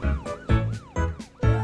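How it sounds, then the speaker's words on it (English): Cartoon police car siren from an animated children's show, wailing in four rising-and-falling sweeps with gaps between, loud and close, no talking. "I flash my lights and turn on my siren to give a warning to bad guys"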